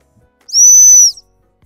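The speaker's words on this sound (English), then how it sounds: "we're trying to time that tug with that stop whistle at the same time" A single sharp, shrill gundog stop whistle blast, held steady for about half a second, loud and close, with no talk over it.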